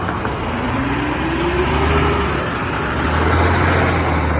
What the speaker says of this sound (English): But then there's a Kenworth coming